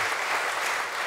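A church congregation claps to welcome visiting families at a Sunday service, a dense, steady wash of applause filling the whole moment without pause.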